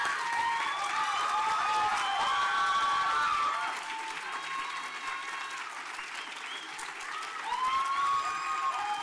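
An evening oratorical contest audience gives sustained, full-room applause for the winner and contestants, dense clapping with a few cheers that dips briefly midway, then swells again.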